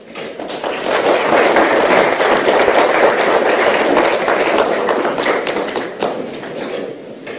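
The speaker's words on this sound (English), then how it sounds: "Another round of applause. That wasn't enough." Loud, dense applause from an audience at a Kenyan election observers' event swells up quickly and holds strong for several seconds before thinning toward the end, with no speech heard over it.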